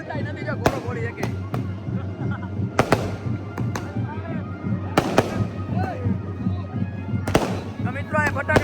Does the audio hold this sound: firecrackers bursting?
yes